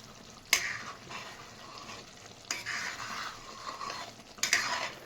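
Whole onion curry cooked until the oil separates, stirred in a pan: a soft bubbling sizzle with three distinct scraping spoon strokes, close and moderately quiet, no voices.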